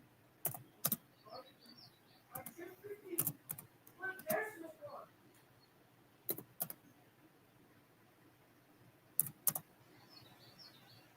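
Scattered clicks and taps on a computer keyboard come in short irregular bursts, fairly faint, with a voice speaking softly at times and a few sharp louder knocks.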